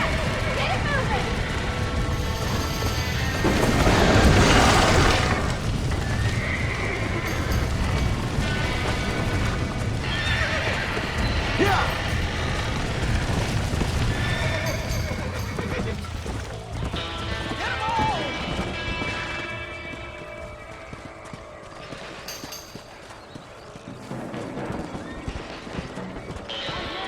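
In the video game Red Dead Redemption, horses neigh and whinny over clip-clopping hooves and galloping, with people shouting and talking throughout amid busy background action.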